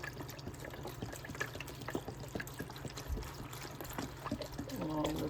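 Vegetable broth poured into a soup pot of heart of palm cabbage soup, a steady liquid trickle with small splashes running through the whole stretch, close by and moderately quiet, swelling slightly toward the end.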